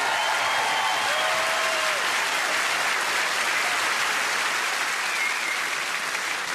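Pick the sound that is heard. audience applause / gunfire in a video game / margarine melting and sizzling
audience applause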